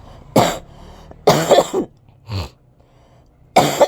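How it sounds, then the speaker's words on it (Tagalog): A person with a lingering cough coughs in four separate bursts, close and loud, the spaced hacks separated by short quiet pauses and no talking. "Hindi pa nawawala yung aking ubo"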